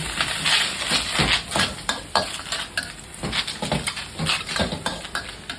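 Squid stir-frying with yellow curry powder as a little water goes in, steady sizzling under repeated scraping and clanking of a spatula against the pan, close and continuous.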